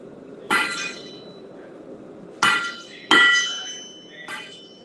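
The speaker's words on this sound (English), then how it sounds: "Now, like you were hammering that." A blacksmith's hammer strikes metal at an anvil, four separate ringing blows spaced out irregularly, each with a bright metallic clang that decays, over a faint low background.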